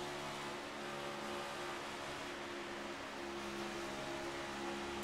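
Toyota Camry Next Gen Cup race cars running cautiously on track, a faint steady engine drone easing off throttle, distant and smooth with no talking.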